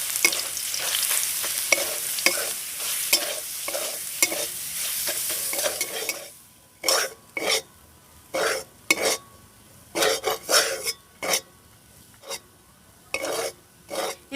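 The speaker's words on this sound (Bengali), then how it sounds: "এবার এই ছোলার ডালটাকে খুব সুন্দরভাবে ঝরঝরে করে ভেজে নেব।" Chana dal frying in a pan with cardamom. A dense, continuous sizzle comes first, then gives way to a series of distinct stirring strokes, each a short burst of scraping and frying separated by brief pauses, with no speech.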